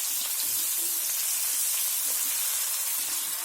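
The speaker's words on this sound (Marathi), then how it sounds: "हे मी सोडलं आहे कढीपत्ता." Curry leaves dropped into hot oil with garlic and ginger paste for an eggplant dish, giving a loud, steady, close sizzle with crackling spatter that runs on without a break.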